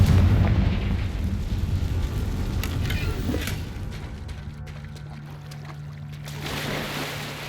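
The Confringo fire spell explodes in the Hogwarts Legacy video game, a heavy rumbling blast that rolls out and slowly fades into a low, sustained roar.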